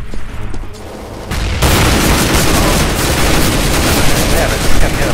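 Gunfire and a grenade blast in Counter-Strike: Global Offensive, a dense, loud burst of rapid shots and booms that starts after a quieter opening second and continues steadily to the end.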